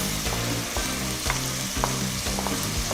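Onions and tomato frying in hot oil for sautéed rice with chicken feet, a loud, dense sizzle under repeated spoon scrapes and stirring knocks, close up, no voices.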